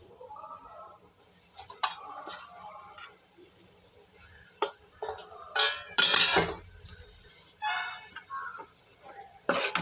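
Washed chicken being added to a curry pot of softened onion and tomato, heard as clattering utensil knocks, clinks and wet sliding bursts against metal, intermittent and close, with quiet stretches between.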